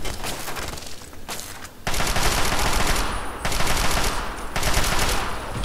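Bursts of automatic gunfire from a firefight in Fallout 3, dense crackling shots that run almost continuously with brief lulls, loud and close throughout.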